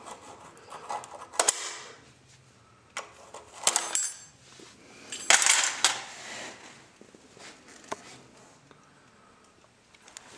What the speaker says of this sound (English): You'll have to get a screwdriver underneath of it and pop it the rest of the way out